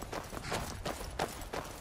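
Horse hooves in Skyrim clop in a quick series of soft, evenly spaced strikes, fairly faint and close together, with no voices over them.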